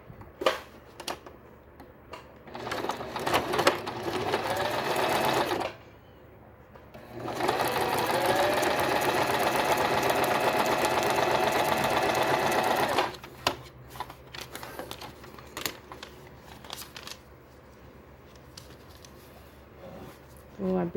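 A sewing machine stitches patchwork fabric in two long steady runs of rapid, even mechanical rattling, loud and close, with short pauses, brief handling noises and someone speaking in between.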